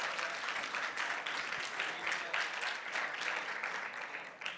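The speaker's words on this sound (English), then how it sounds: "Can I get a round of applause?" Applause from a conference audience at a breakout session rises in a steady, dense wash of many clapping hands, fairly loud and continuous throughout, with no clear voices standing out above it.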